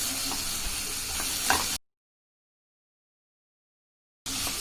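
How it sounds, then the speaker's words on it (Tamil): Masala with ginger-garlic paste sizzles and fries in a pan while being stirred, with scraping taps, followed by a stretch of total silence before the frying resumes. "இப்போ இதை நல்லா கிளறி விடணும்."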